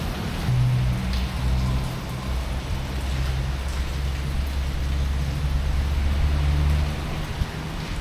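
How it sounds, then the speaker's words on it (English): Steady tropical rainy-season rain pours down in a dense, even hiss, with a low rumble underneath and no voices. "Usually you get like torrential rain"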